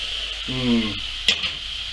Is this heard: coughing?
no